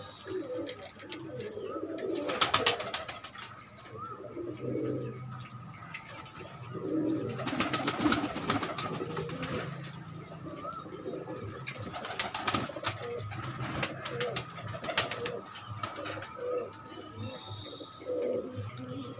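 Kaldumi racing pigeons coo softly and repeatedly at a loft in Sharanpuri, with soft low calls scattered among bursts of wing flapping and rustling, and no one talking.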